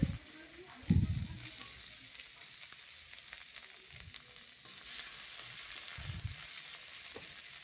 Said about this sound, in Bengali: পেঁয়াজ দিয়ে ভাজা হচ্ছে পেঁয়াজটাকে।